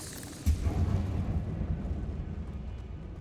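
A Confringo fire spell explodes in Hogwarts Legacy with a single sharp, close boom. A rumbling roar follows and fades slowly over the next few seconds.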